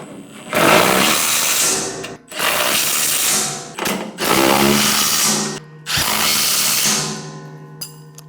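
Power tool tightening 4 1/2-inch bolts on a MUSKOX snowblower, heard as four loud, sustained whirring runs close by, each lasting one to two seconds with short gaps, and no talk.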